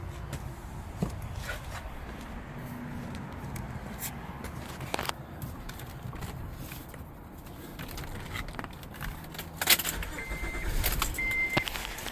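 A car engine starting up during a transmission fluid check, heard amid jangling keys, footsteps and clunks around the vehicle, then a low idle rumble under the shop noise.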